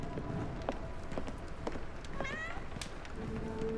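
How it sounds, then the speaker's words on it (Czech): In the video game Sherlock Holmes The Awakened, a cat gives a single clear meow partway through, mid-loud over busy running footsteps in the game's soundscape. "Je ta kočka, ňourající."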